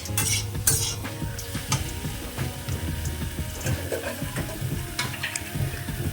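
Raw mango and rohu fish curry with potatoes and chilli powder is stirred and sautéed in a pan over medium heat, with continuous sizzling and repeated scraping and clinking of a spoon against the metal, close and busy throughout.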